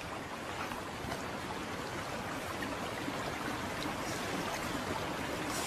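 Water sloshing and splashing as someone swims at night, a steady broadband wash of moving water throughout with no voices.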